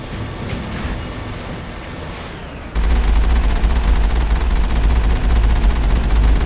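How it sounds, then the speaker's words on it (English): A machine gun fires in the sci-fi shooter game Mass Effect, a dense continuous rattle that erupts abruptly partway through and stays loud to the end over a heavy low rumble. "Oh, this is a machine gun."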